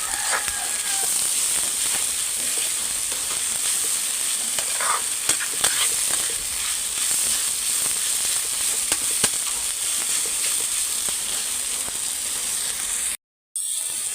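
Papaya fries in a pan with a constant close sizzle and scattered scraping stir strokes, ending in a brief break near the end.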